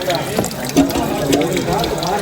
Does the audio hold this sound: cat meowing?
no